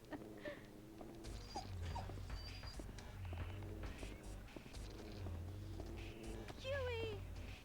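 A dog whimpers and yips in the PS2 survival horror game Haunting Ground, with faint, quiet whines and a rising yelp near the end over a low game soundscape and hoof-like clip-clop steps.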